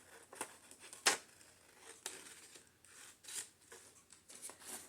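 Scissors snipping paper for a junk journal page, a few faint, close, crisp cuts separated by pauses, with a sharper snip standing out early, in a quiet room.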